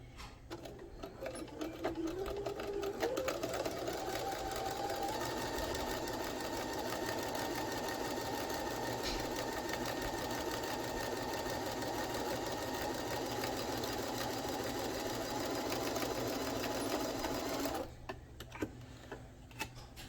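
A sewing machine stitching a fabric face mask runs nearby in one steady, loud whirring hum with a fine rapid needle rhythm, ramping up at the start and stopping abruptly near the end.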